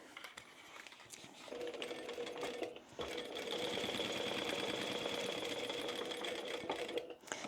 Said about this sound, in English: we're going to sew down to where that line is.